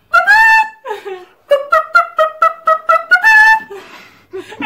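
A person imitates a rooster's crow with a series of loud, clipped vocal calls, with a couple of drawn-out crowing cries between short repeated bursts.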